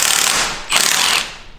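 An impact wrench works on an engine's head bolts in a shop, two loud, close bursts of rattling hammering, the second starting just after a brief dip.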